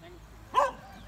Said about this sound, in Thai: ได้ยินเสียงหมาเห่าครับ